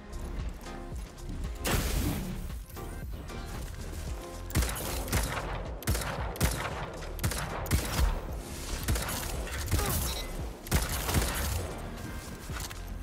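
Hand cannon fire in the shooter game Destiny, loud sharp shots in quick irregular bursts mixed with impacts and other game effects, continuous throughout without talk.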